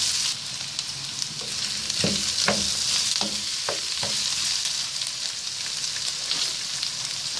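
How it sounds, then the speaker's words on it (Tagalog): Onions fry in a pan for a beef kaldereta, giving a constant bright sizzle while a utensil stirs them in a short run of clattering scrapes, up close and with no one speaking. "add naman po natin yung ating sibuyas. Then, haluin lang natin"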